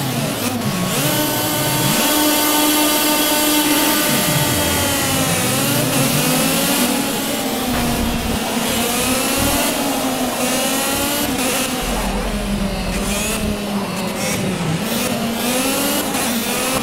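A go-kart engine from the racing game Project CARS revs hard and continuously, its whining pitch climbing and dipping as the throttle opens and eases, loud and steady throughout.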